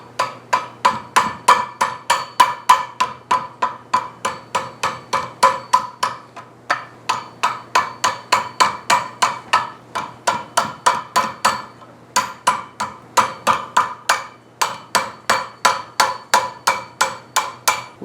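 Hot iron struck repeatedly with a hammer over a mandrel cone while forging a candle holder: steady rhythmic ringing blows in quick series, loud and close, with brief pauses between runs.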